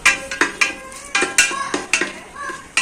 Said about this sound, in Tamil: நல்லா இதை ஃப்ரை பண்ணிப்போம்.